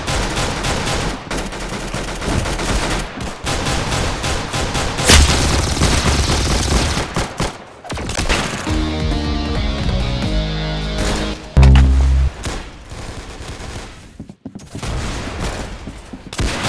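Dense, rapid gunfire from the online shooter game Arsenal, sustained volleys and bursts of loud shots with booming impacts running almost continuously, with no talk.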